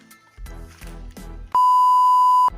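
A steady electronic beep from an old mobile phone holds one pitch for about a second, loud and clear, after some clattering and rummaging noises.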